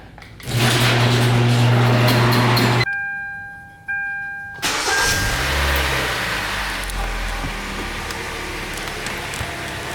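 A car engine cranks and fires up in a garage after an oil change, a loud steady idle that cuts out briefly, then restarts and settles into a lower, continuous running rumble.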